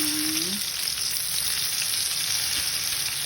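Egg-dipped, flour-coated chicken cutlets sizzle in hot oil, a dense, even crackle heard up close and alone, with a brief tone at the very start.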